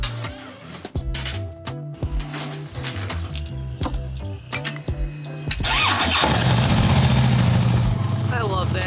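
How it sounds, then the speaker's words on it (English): Motorcycles being started up: repeated loud cranking and sputtering catches, then an engine fires into a steady, throaty rumbling idle close by, with some talk in between. "we gotta start the bikes up just to make sure everything's running nicely"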